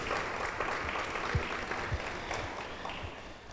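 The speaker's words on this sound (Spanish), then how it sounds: "Los recibimos con un aplauso de cariño" Church congregation clapping warmly to welcome newcomers, a steady, moderate patter of many hands with a few low thumps scattered through it and no talking.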